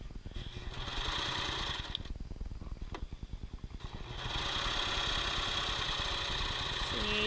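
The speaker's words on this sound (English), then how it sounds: "we're going to sew or serge using the seam allowance from the pattern" A serger runs steadily along the seam of leggings, its rapid mechanical whir filling the clip with one brief slowdown in the middle before it speeds back up, no talking over it.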